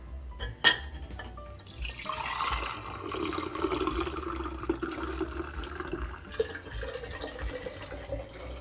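Liquid pours steadily through a kitchen funnel fitted with a fine mesh strainer, a soft close trickle and gurgle running for several seconds after a few light clinks of handling.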